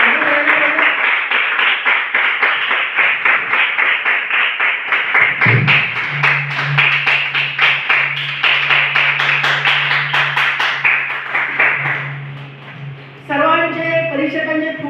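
An audience claps for two students at a drug-awareness quiz competition at a primary school, a fast, steady round of applause lasting several seconds, with a voice speaking briefly before it and again as it ends.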